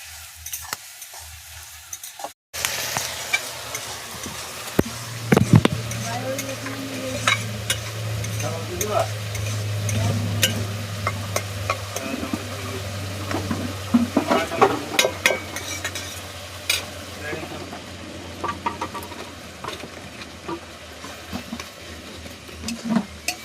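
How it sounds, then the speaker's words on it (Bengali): Whole cardamom, cloves and cinnamon stick sizzle in hot mustard oil in a wok, a steady close crackle with occasional stirring clinks and scrapes running throughout. "কড়াইয়ে সর্ষের তেল দিয়ে এলাচ আর লবঙ্গ আর এই কাঠ দিয়ে দিয়েছি।"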